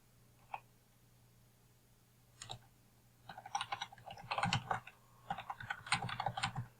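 Fingers type a chart title on a computer keyboard, tapping out quick clusters of keystrokes after a few isolated clicks. The keys sound close and fairly soft, with no voice heard.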